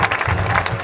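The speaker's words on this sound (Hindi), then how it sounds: "ताली बजाएंगे जोर से" A congregation at a live Easter prayer meeting claps loudly and steadily, a dense continuous wash of applause from a crowd.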